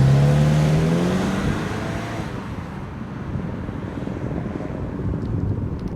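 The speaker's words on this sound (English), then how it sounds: "It's a little bit loud on the inside, so the road noise is about the same." Road noise fills the cabin of a 2014 Mazda3 with the 2.5L engine while driving, a steady low rumble and tire roar under a fading engine drone, constant and fairly loud with no talking.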